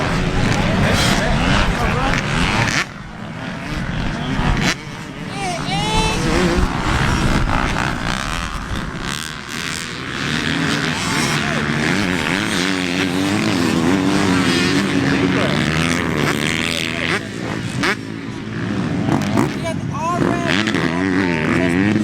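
Dirt bikes, including a 2018 Yamaha YZ250F, race around a motocross track, their high-pitched four-stroke engines revving and wailing loudly and continuously as several pass close by, while people talk over the noise.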